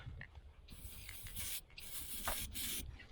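A spray paint can hisses in several short bursts while marking on a construction site, close and fairly quiet, separated by brief pauses and faint rubbing.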